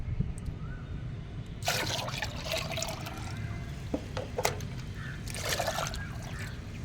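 Rice-rinsing water is poured onto garden plants in several close splashing bursts, with trickling and dribbling between them over a quiet background.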